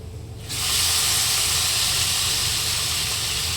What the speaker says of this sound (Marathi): आपली मिरची वगैरे सगळं झालेलं आहे तेलात छान आता आपण मस्त गवार टाकूया